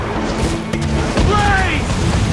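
Enemy ship cannon fire during a naval skirmish in Assassin's Creed IV: Black Flag, heard as a dull boom and thud over a constant battle din, with a shouting voice and whistling tones partway through.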